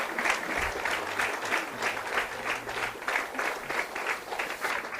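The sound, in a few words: wedding guests clapping for each garland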